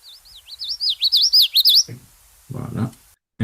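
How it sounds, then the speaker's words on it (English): A small songbird near bushes by wetlands gives a quick run of bright, rising chirps, close and clear, followed by a short stretch of low human talk. "if you walk by a bush and you hear this sound here, the little chirp"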